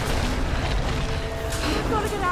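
An explosion in the Tomb Raider video game rumbles loudly and continuously, with deep booming and crackling debris noise filling the whole stretch, and game effects layered over it.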